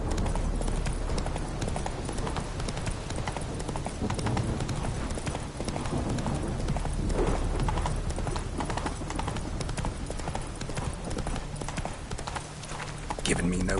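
Roach the horse galloping in The Witcher 3, a fast, steady clip-clop of hooves running throughout, with a voice speaking over it at times.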